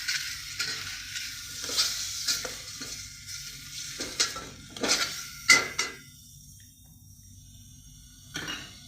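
Ingredients sautéing in a pan for fish curry give a soft frying hiss, broken by repeated scraping and stirring strokes of a spoon against the pan and a few sharper clinks, with no voices.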